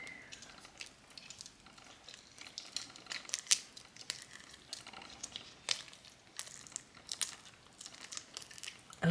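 Squishy material being peeled out of a large silicone geode mold, soft crinkling and tacky tearing sounds in irregular bursts, faint and close, with no speech.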